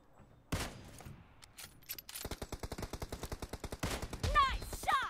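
Gunfire in the mobile shooter PUBG Mobile during a deathmatch: an opening shot, then a rapid, evenly spaced automatic burst of close shots, with game sounds and brief voice over the top.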